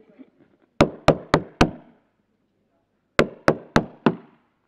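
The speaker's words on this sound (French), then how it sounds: "Voici, je me tiens à la porte et je frappe." Two sets of four sharp, loud knocks on a door, evenly spaced, with a pause of about a second and a half between the groups, heard close and alone.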